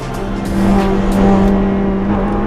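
Several race car engines roar and rise together as they pull away from the grid at the start of a race at Dijon-Prenois, a loud, dense mechanical drone close by.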